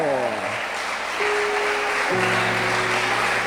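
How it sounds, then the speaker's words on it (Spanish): Applause from a church congregation fills the room steadily throughout, dense and fairly loud, with sustained tones, likely music or voices, running under it. "Es un aplauso."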